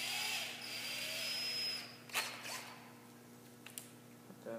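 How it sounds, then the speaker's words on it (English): A power drill whirs briefly into wooden triangle supports, a short high-pitched spin that winds down, followed by a few light clicks and handling knocks in a quiet room. "all I'm going to be doing is drilling right into these triangle supports"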